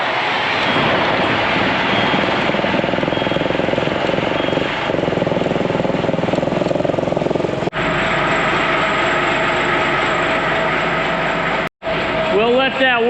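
A semi truck engine that has been sitting, with a rusted muffler, runs steadily and loudly, a dense low rumble throughout with a brief dropout near the end.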